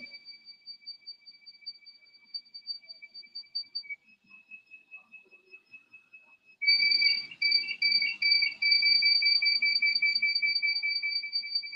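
An electronic buzzer wired with an LED to pin 5 on a robotics board sounds a high, steady beeping tone, faint and pulsing at first, then much louder and continuous in rapid repeated bursts.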